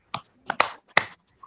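A few sharp hand claps in a Zoom class, spaced irregularly in small bursts of one and two, close and dry against near silence.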